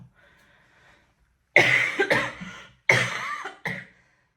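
A person coughs several times up close, with harsh bursts in two groups and a final shorter cough, separated by brief quiet gaps.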